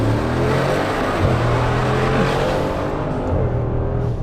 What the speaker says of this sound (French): Allez, j'accélère à fond.